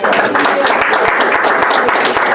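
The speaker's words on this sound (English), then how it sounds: "give you another round of applause" Applause at a town board meeting: a short, steady burst of clapping from the people in the room, close and fairly loud, with voices under it.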